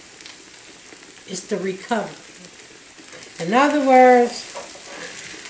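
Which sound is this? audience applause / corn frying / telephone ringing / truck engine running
corn frying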